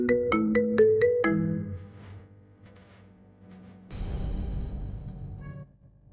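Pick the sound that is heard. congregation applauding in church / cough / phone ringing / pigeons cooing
phone ringing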